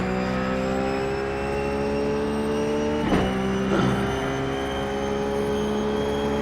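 Engine of a Ruf GT3 race car in iRacing lapping Phillip Island, a steady high-revving drone with two quick shift blips in the middle, loud and continuous with no talk over it.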